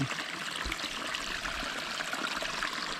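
Irrigation water flows steadily into a rice paddy being prepared for planting chili, a soft continuous trickling and rushing wash, fairly faint and unbroken with no talk.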